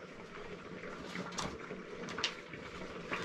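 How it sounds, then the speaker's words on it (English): Quicklime slaking in a container of water for whitewash, giving a soft, continuous bubbling and fizzing hiss with small pops, close and fairly quiet throughout. "So you can hear it starting to bubble a bit."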